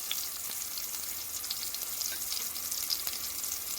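Onions hit hot oil in a pan for pudina rice, producing a bright, continuous close-up sizzle with faint crackles throughout, alone without talk.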